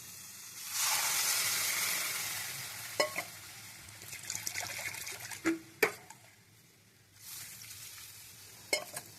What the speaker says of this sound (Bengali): গুঁড়ো দুধ জলে গুলে নিয়েছিলাম, এবার দিয়ে দেবো এটা